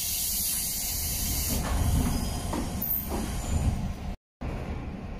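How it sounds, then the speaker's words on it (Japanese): A train on the Chuo Main Line near Sagamiko Station in Japan rumbles and hisses close by, with a steady mechanical drone and a brief break in the sound near the end. "反対側に高尾駅の電車が対比線に来ました"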